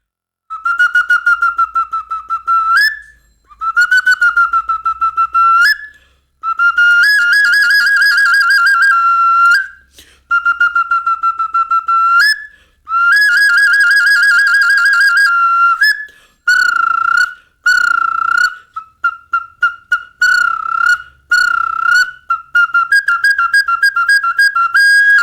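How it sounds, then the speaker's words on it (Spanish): A small clay bird whistle, a traditional instrument, is blown close and loud in long sustained warbling phrases and then shorter rapid chirping trills. "Es un instrumento que es un pajarito, literal es un pajarito de barro"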